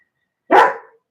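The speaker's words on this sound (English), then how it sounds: "Sorry about the barking." A single loud, close dog bark, one short sharp burst against silence.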